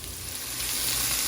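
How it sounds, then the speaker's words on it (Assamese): Tomato, onion, ginger and garlic fry together in a pan with a bright, dense, continuous sizzle, loud and close over a short stretch. "এয়া বিলাহী পিঁয়াজ আদা নহৰু এই গোটেইখিনি এতিয়া মই একেলগে ভাজি ল'লোঁ"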